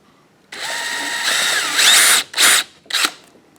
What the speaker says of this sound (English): we will drill our pilot hole with our 1/16 inch drill bit